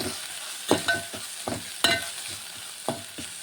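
A spoon scrapes and clinks against a pan in a few sharp strokes, stirring chicken masala with coriander powder and salt, while it sizzles softly underneath.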